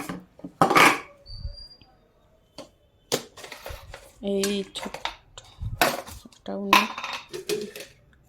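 Bowls and lids clatter and clink in a home kitchen while a meal is dished up, with sharp bursts of crockery knocks between stretches of conversation.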